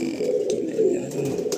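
White-headed pigeons in a Kolkata loft of Andhra and Madrasi birds coo in low, steady, throaty murmurs that run on without a break, close by with no voices.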